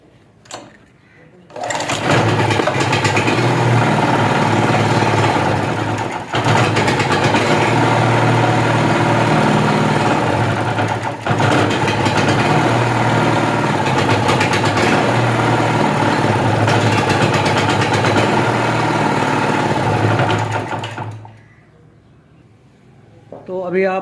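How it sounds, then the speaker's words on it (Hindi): A small portable generator with a starting problem fires up and runs, a loud steady engine drone with a rapid buzzing rattle that dips briefly twice before cutting off near the end, with a person speaking over it. "तो अभी आपको मैंने ये जनरेटर चेक कराया है।"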